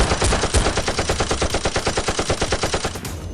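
Rapid bursts of toy Nerf blaster fire in a mock police and SWAT battle, a fast steady rattle of repeated shots, loud and close, with no talking over it.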